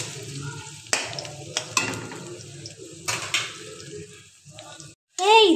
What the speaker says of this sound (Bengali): পেঁয়াজ কুচিয়ে রেখেছিলাম তেলে ছেড়ে দিলাম। ভালো করে পেঁয়াজগুলো লাল লাল করে ভেজে নেব।